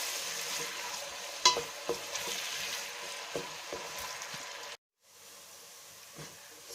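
Chicken, onions and red peppers sizzle and fry steadily in a hot pan, with occasional stirring scrapes and clatters, then a brief cut to near silence before the sizzle resumes.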